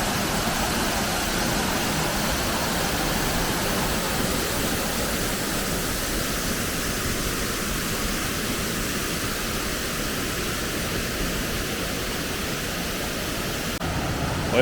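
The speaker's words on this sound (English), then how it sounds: "there's another beautiful waterfall down here" A waterfall beside an Appalachian Trail side trail near Long Creek Falls gives a steady, broad rushing roar that holds without break throughout, fairly close and alone with no voices.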